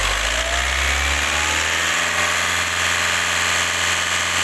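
A car engine with an EGR fault revs as the throttle is pressed, a loud sustained roar with a strong low drone and broad high-pitched hiss, heard close up without talk.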